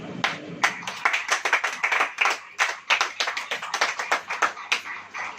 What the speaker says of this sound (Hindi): स्वर्ग शक्तिमान प्रभु परमेश्वर यीशु नाज़री के लिए ताली बजाएं।